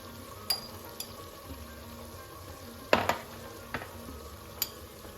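Tomatoes and peppers fry in a pot for Tunisian couscous, a faint soft sizzle under occasional stirring clinks and scrapes of a utensil against the pot, no talking.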